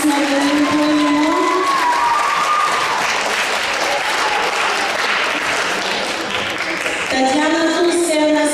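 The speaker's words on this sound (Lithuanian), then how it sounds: "prašom paplojame vadovams" An audience at a folk dance group concert applauds the group leaders with sustained, loud clapping and some cheering, while a voice speaks over it at the start and end.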